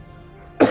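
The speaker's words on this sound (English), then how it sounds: "Wake up every morning and having a bad cough" A single harsh cough bursts out after a short quiet lead-in, close and loud, from a person whose lungs are sore from vaping.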